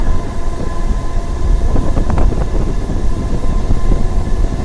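A DEMU passenger train runs between Secunderabad and Siddipet, its steady low rumble loud and close, as if heard from on board. A few brief metallic squeals rise midway over the continuous drone.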